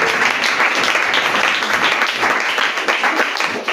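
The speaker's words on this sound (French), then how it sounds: "Acclamons royalement la parole de Dieu." A church congregation applauding at a service, dense sustained clapping filling the room, loud and continuous throughout.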